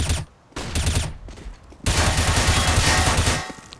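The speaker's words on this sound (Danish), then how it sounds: "Throwing flashbang." Flashbang grenade in CS:GO, with a sharp burst followed by a loud, sustained crackling blast and rapid gunfire-like pops, close and dense.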